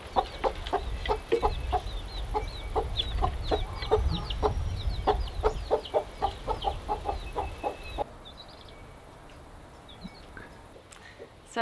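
A brooding mother hen on a farm clucks in a rapid series of short, repeated notes, fairly close, fading to quiet near the end.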